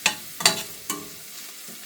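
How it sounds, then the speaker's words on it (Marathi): Onions frying golden brown in a pan, with three short, distinct stirring scrapes over a soft, steady sizzle. "पळया पियाव इल्लें इल्लें गोल्डन ब्राउन जावंक सुरू जालें"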